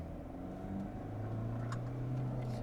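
A Vauxhall Zafira B with a 1.7 CDTI turbo diesel engine drives along, giving a steady, fairly loud engine and road drone that builds slightly toward the end, with no talking.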